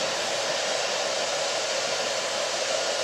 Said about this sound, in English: I have my hair dryer here